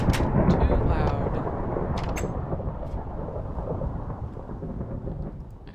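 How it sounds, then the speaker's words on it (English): Thunderstorm in Minecraft during Slime Survival: a loud rumbling thunder roll over steady rain, fading slowly, with brief crackling strikes near the start. "maybe it'll get rid of this storm. That is just too loud."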